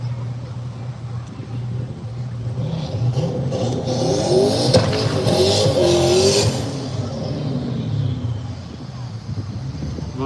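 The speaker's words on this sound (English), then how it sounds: "Justin Burton in the Camaro. We'll be taking on JT Blair in the Corvette." A 5th-gen Camaro and a C7 Corvette rumble and rev at a drag race, their engine roar building and falling as they run, with tire and engine tones sweeping past under an announcer's talk.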